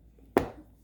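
One sharp knife chop through a scented blend on a cutting board, a close, sudden hit that fades quickly into a quiet room.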